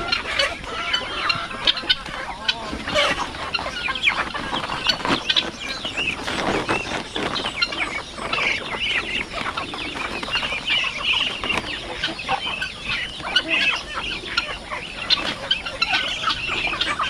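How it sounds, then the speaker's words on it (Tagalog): Chickens cluck and squawk close by on a farm, with scattered wing flapping and busy overlapping calls running throughout. "Naghuli tayo ng manok ngayon."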